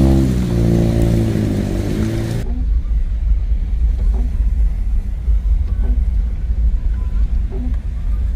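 A car pulls out of a filling station onto the road toward Kamra town, its engine and tyre rumble droning steadily and close after a brief burst of other sound at the start.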